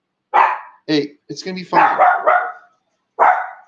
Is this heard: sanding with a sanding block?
no